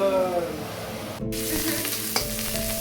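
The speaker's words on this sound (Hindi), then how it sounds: "तो जो है ये मिर्ची का छौंक लगा दिया है।" Chilies hit hot oil for a tempering in a home kitchen. A sudden loud sizzle bursts in partway through and keeps hissing steadily, with faint stirring sounds and no talking.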